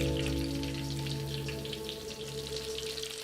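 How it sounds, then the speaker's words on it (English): Eggplant slices for eggplant parmesan frying steadily in a pan, a dense crackling sizzle with a low steady hum beneath, close and constant without talk. "You can just double fry that."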